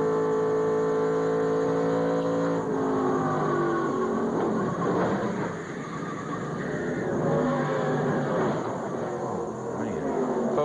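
In-car audio from a NASCAR race car on pit road, a loud sustained engine roar with shifting harmonics, then a rough, noisy burst around the middle as the car hits the inside wall, engine noise continuing afterward.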